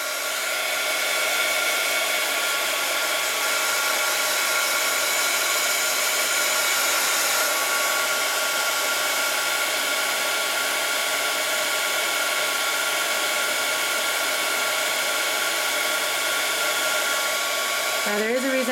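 Hair dryer blowing on wet glue on a mirror craft, a loud continuous close whir holding steady throughout, with a slight shift in pitch near the end.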